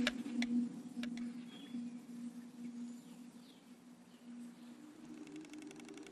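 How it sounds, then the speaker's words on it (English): White storks clattering their bills, a faint run of rapid dry knocks near the end of the clip, over a low steady hum and quiet background. "the familiar bill clattering of the little white storks signals the parents' hard day's work"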